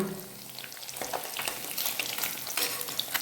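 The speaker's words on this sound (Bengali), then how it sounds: "সাদা তেল দিয়ে গরম করে মাছগুলো ভেজে নেব। মাছগুলো এইভাবে হালকা করে ভেজে" Fish lightly frying in hot white oil for rezala, a soft continuous sizzle with faint crackles and an occasional stir, fairly quiet and close, no voices.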